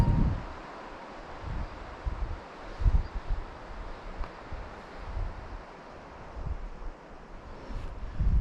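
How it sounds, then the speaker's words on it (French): Gusty high-altitude wind blows outdoors on a mountain trail in the Néouvielle Nature Reserve, rising and falling in soft buffeting waves with a rustling, airy hiss and no voices. "Il y a du vent en altitude. Ça souffle."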